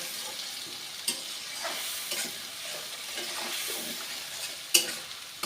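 Ginger and green chili paste is stir-fried in a pan for rui kasundi, a Bengali fish curry with mustard sauce, with a constant soft sizzle broken by scraping strokes and a few sharp spoon clicks.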